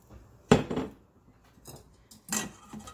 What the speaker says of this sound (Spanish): vamos a batir bien.